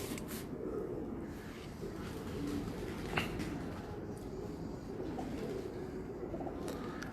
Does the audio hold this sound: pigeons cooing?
yes